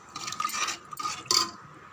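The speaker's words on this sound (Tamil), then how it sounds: "4 டம்ளர் தண்ணி சேர்க்க போகிறேன்" Water poured from a tumbler into rice for biryani, a short splashing, gurgling pour lasting a couple of seconds with a brighter splash near the end.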